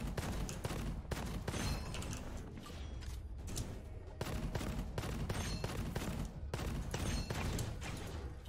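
Rapid bursts of gunfire from a starting weapon in the shooter Gunfire Reborn, loud repeated cracks in quick succession across the whole stretch, close up with no talking.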